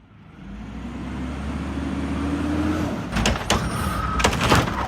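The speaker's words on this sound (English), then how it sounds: "The hydraulic arm grabs the plastic bin and dumps the trash into the container." A garbage truck's engine rumbles steadily while its hydraulic arm whines, then a burst of clattering and banging follows as a bin is lifted and emptied.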